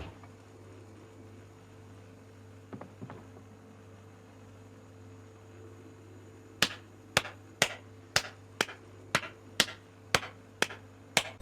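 Clapping sound effect from the Project Zomboid video game: a regular series of about ten sharp, crisp claps at an even pace, heard alone over a low steady hum after a couple of faint earlier clicks.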